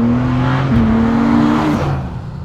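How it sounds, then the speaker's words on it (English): A BMW M4 CSL or Porsche 911 GT3 Touring heard from inside at speed, with a loud steady engine drone that shifts pitch as it changes gear, under constant road and tyre roar. "as you get up to speed, you do get quite a lot of road noise"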